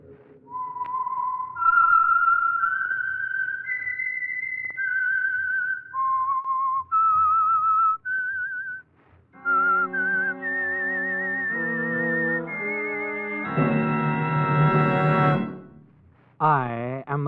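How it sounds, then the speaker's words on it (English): A clear, melodic theme whistled alone by a single person, gliding through sustained notes, followed by a sustained orchestral or organ chord that swells and cuts off, serving as a radio program signal. "That whistle is your signal for the Signal Oil Program"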